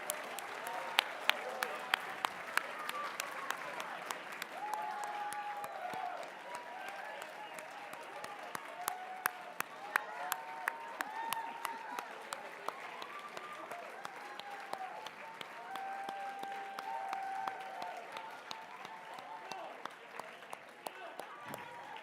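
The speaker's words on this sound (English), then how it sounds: "Would you give the Terrells a big round of applause?" An audience at a charity memorial auction breaks into loud, sustained applause, steady dense clapping with scattered sharper claps, continuing for about twenty seconds.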